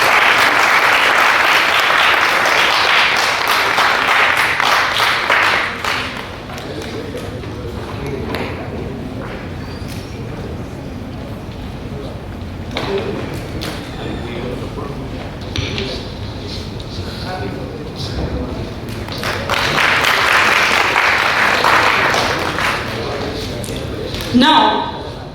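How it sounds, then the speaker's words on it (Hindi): Loud audience applause at an honours ceremony in India, a burst of clapping that dies down into crowd murmur and voices, then swells again into a second round of clapping near the end. "एक बार जोरों से तालियां हो जाएं।"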